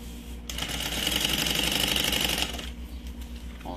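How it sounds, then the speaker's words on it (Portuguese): A sewing machine runs steadily for about two seconds, stitching a continuous visible seam along the lining of a double vanity case, with a soft mechanical whir and rapid needle clatter before it stops. "Essa vai ficar uma costura bem aparente, então faz com calma, faz uma costura contínua."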